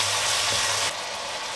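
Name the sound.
stirring beef with brown sugar and soy sauce in a pan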